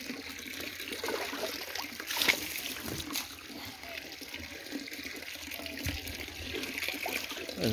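Water splashing and trickling steadily over a 14-month-old young bull being bathed, continuous and fairly close, with a brief louder splash partway through.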